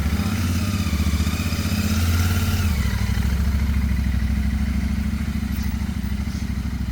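A motorcycle runs loud and close, its engine holding a steady throbbing drone with a slight rise in pitch partway through, alone without talk.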